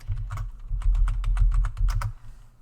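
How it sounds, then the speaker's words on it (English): Fingers typing on a computer keyboard nearby, a rapid uneven run of crisp key clicks in short bursts with brief pauses, heard alone without talk. "I need to actually be typing."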